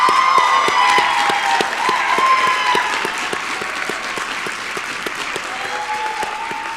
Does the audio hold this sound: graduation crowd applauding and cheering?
yes